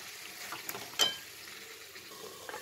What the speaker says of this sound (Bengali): চিকেনটা দিয়ে দিলাম, দিয়ে এবারে এটাকে কষবো